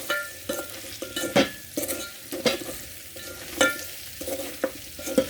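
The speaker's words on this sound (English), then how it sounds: "Then I stir." Salted beef pilau stirred in a pot, with a spoon scraping and knocking against the metal in a repeated rhythm every second or so over a soft sizzle, close and without talk.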